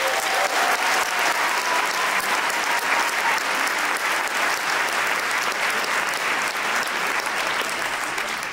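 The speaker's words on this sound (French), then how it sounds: "Vous pouvez les applaudir." Audience applause at the Cinémania film festival, a full, sustained round of clapping from a hall crowd that holds steady from start to end, fading slightly at the close.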